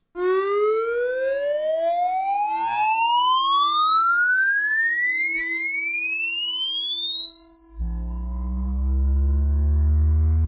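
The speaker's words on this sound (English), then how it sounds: "this is the riser that you hear in the beginning of this track slash video" A synth riser built from a Native Instruments Massive accordion patch sweeps steadily upward in pitch for about eight seconds, bright and loud, then drops into a low, sustained chordal tone.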